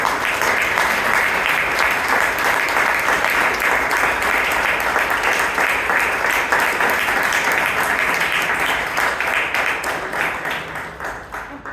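A Toastmasters club meeting audience in Bangalore gives a big round of applause for the women members, loud, dense and sustained clapping from many hands that carries on without pause before tapering slightly at the end.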